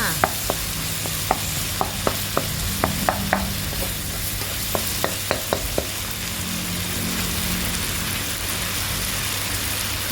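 Minced pork with century egg and holy basil is stir-fried in a pan, a steady close sizzle punctuated by sharp spatula scrapes and taps against the metal, with no talking.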